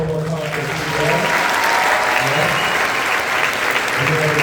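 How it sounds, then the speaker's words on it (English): An audience gives a round of applause for two high school and college jazz bands, dense steady clapping in a hall that carries on throughout. "Give it a round of applause one more time for the two bands"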